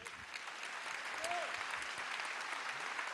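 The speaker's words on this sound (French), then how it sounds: "je voudrais simplement que vous l'applaudissiez" Applause from an audience at a French national conference, a steady wash of many hands clapping throughout, with a brief whistle-like tone and faint voices underneath.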